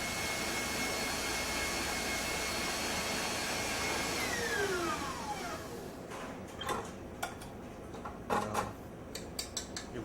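A tabletop stand mixer whirs steadily while whipping cream, then its motor pitch winds down and it falls quiet, leaving a few light clinks and taps near the bowl.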